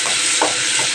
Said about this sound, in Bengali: ওই তেলের মধ্যে মাছ ভাজা তেলের মধ্যে জিরে, শুকনো লঙ্কা, তেজপাতা ফোড়ন দিয়ে টমেটোটা দিয়ে দিলাম